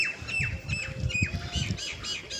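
Common myna birds squawk harshly while fighting squirrels over rice scattered in a village yard. The calls are close and repeated in quick, overlapping bursts, with no talking.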